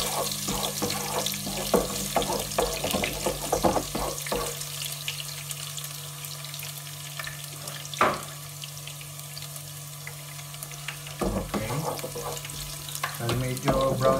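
Garlic frying in a pan for Filipino humba, a continuous sizzle with scattered clicks and scrapes of stirring and a steady low hum in the background.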